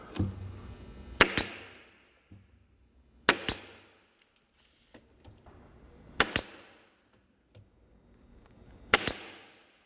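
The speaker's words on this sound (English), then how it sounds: "Simply hold that in place, again with a staple gun." A staple gun fastens wooden blocks into a cabinet during assembly, giving sharp, loud snapping shots, often in close pairs, spaced several seconds apart with quieter handling noises between.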